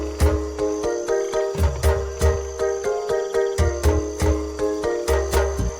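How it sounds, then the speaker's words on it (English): Crickets in a rainforest vivarium chirp loudly and close up in a steady, evenly pulsed rhythm of repeated trills, with no other sounds competing. "Crickets also began to engage in territorial disputes."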